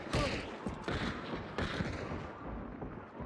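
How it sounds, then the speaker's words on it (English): Gunfire in the video game Hunt Showdown: several sharp, loud shots and booming reports in quick irregular succession, each followed by a rolling echo. "Yeah, I hear gunfire."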